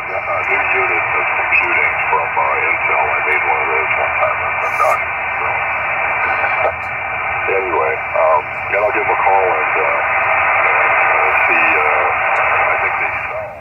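Ham radio receiver tuned with a low noise floor at a park, giving a steady band-limited hiss with faint, garbled voice-like fragments drifting under it.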